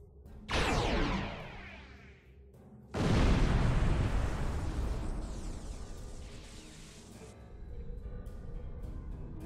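Nanite torpedoes fired at the Undine in the space combat game Star Trek Online, two heavy booming blasts with a long rumbling tail, loud and close with no talk over them.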